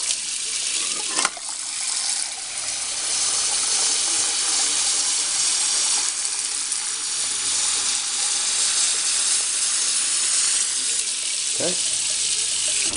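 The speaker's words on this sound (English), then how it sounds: "And now you're going to add cold water." Cold water pours steadily from a tap into a pan for boiling eggs, a continuous hissing rush that stays even and fairly loud throughout, with a couple of brief clanks.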